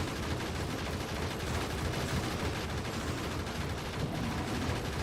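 Dense, continuous gunfire in the video game Factorio Space Age, a steady wash of rapid shots with no pauses, loud and alone.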